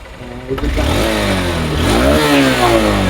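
A new 2024 160cc motorcycle with ABS and double disc brakes revved hard, its loud nearby engine climbing, dipping and rising again in a steady throaty roar.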